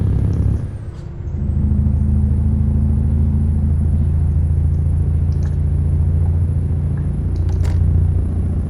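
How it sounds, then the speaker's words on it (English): A steady, deep, loud rumble from a MAN TGX truck with a V8 open-pipe engine sound in Euro Truck Simulator, droning continuously from the cab with a brief dip near the start and no talk. "This is with the V8 open pipe engine sound, so you're hearing that wonderful blub blub here from under the seat"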